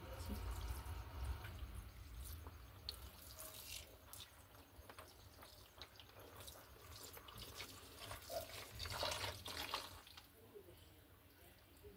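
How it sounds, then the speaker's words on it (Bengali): Water poured over a small Gopal idol as it is bathed during a Radha Ashtami ritual, a steady close splashing and trickling that runs without a break throughout. "তার আমি ভালোভাবে জল দিয়ে স্নান করে দিচ্ছি।"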